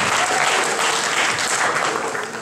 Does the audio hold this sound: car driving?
no